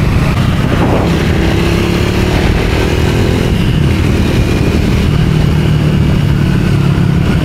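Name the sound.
new motorcycle being delivered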